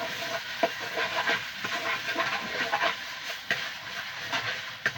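Pork stirred as it fries in a pan gives a steady, moderate sizzle with scattered soft scraping ticks from the utensil, continuous throughout and without speech.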